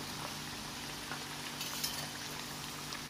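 Steady sizzle of frying in a pan while preparing sellou, the Fassi toasted-flour sweet, a continuous hiss with faint clinks near the end.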